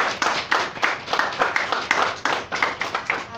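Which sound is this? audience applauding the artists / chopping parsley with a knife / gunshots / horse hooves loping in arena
audience applauding the artists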